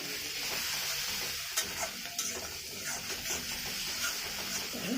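Ginger-garlic paste frying in oil with turmeric and chili powder, a steady close sizzle with light stirring scrapes and a few sharp clicks of the spoon, no voices.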